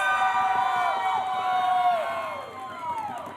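Audience at a charity gaming tournament cheers and shouts in a sustained, fairly loud swell of high voices that gradually tapers off.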